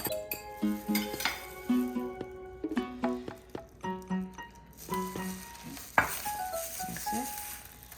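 Shaved steak for shabu shabu is mixed by hand in a home kitchen, with soft stirring, intermittent clinks of utensils against a bowl and a sharp knock, all fairly close.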